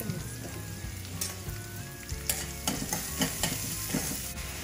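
Chopped garlic, chili and onion sizzle in a hot pan while a spoon stirs and scrapes, with clinks and scraping strokes over a steady close frying hiss.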